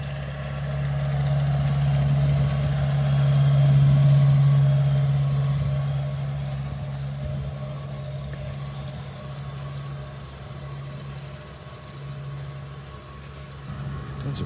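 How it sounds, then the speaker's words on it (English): John Deere tractor engine on a beach in North Naples, Florida, a low steady rumble that swells as it draws near, then slowly fades into the background wash of the shore, heard at a moderate distance without talk. "Here comes our John Deere again."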